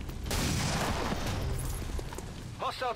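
Pistol fire in the XCOM 2 video game, Long War modded edition: a dense, loud burst of gunfire-like blasts and rumble fills most of the moment, fading as a voice speaks briefly at the end.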